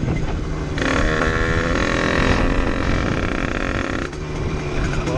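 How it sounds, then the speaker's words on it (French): Wind buffets a microphone outdoors, making a loud, rough roar that swells heavily through the middle and then eases back to a lower steady rush. "il y a du vent."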